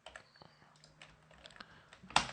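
Soft keyboard clicks and taps on a computer while copying and pasting VPN login details in Kali Linux, a few scattered keystrokes ending in one sharper, louder click, close and faint.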